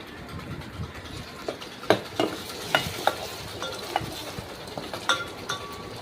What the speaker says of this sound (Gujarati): ટમેટાનો વઘાર કર્યો છે.